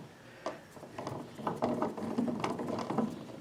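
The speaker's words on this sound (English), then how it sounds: "So then you just want to snug your screw up." A screw is tightened into a standard 120 volt receptacle, giving a quick series of close, soft ratcheting clicks from a driver with no talking.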